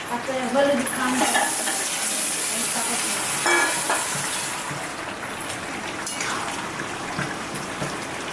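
Fried fish goes into a pan of potato curry and is stirred, giving a loud, dense, close sizzle with scraping and clattering strokes that eases slightly toward the end.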